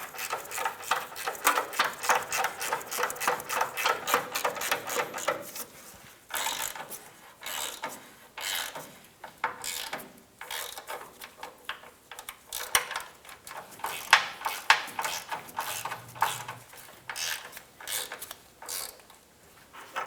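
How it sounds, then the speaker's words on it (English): A ratchet snugs down the sway bar bushing nut and bolt on a 2000-2006 Toyota Tundra, rapid rhythmic clicking in repeated bursts with short pauses, close and moderately loud with no talking. "Then we're going to snug them down."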